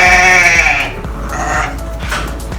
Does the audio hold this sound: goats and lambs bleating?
yes